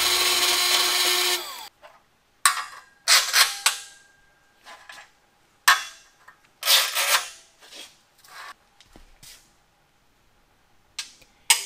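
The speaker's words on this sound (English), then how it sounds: "I drilled two 3 8 inch holes in that quarter inch plate" A power drill bores 3/8-inch holes through quarter-inch steel plate in a welding shop. A loud sustained grind opens the clip, then short, sharp bursts of drilling come and go, separated by near-silent gaps.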